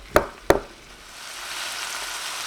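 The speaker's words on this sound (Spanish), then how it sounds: "Se lo vamos a agregar y lo vamos a freír por 1 minuto" Half a red bell pepper, half a green pepper and onion frying in a pan. Two sharp knocks of the ingredients dropping in are followed by a steady, building sizzle.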